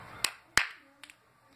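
A person's hands make a short beat: one sharp clap, then a snap, then quieter quick taps, all close and alone with no other sound.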